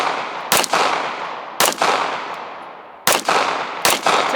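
A Walther PDP pistol firing four loud, close shots at irregular intervals, each sharp crack followed by a long fading echo, with no voices.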